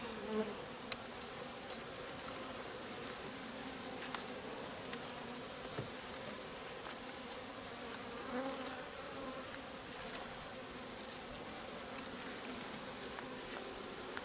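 Honey bees buzz steadily around an opened beehive in an autumn apiary, a dense, continuous drone close by with occasional louder passes of individual bees and light clicks of handling.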